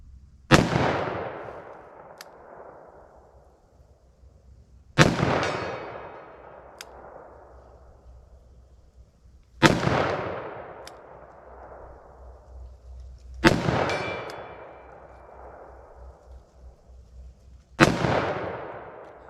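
Five loud, sharp .357 Magnum revolver shots, fired single action from a short barrel with Blazer Brass hollow-point ammo, come at an even pace about four seconds apart, each with a decaying outdoor echo and no talking between.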